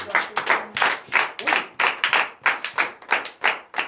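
Congregation at a Friday night deliverance and prophecy service in Comè, Benin, clapping in a steady rhythmic beat, about two claps per second, loud and close with no talk over it.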